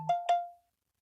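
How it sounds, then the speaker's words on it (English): A phone alert sounds as two short, clear electronic tones in quick succession that fade within half a second, followed by silence. "I just got the alert on my phone."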